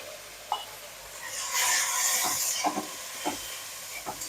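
A spice paste of ginger, salt and turmeric for chicken khichuri bursts into a loud hissing sizzle as water is poured in. Scattered light scrapes and clicks come before and after the hiss.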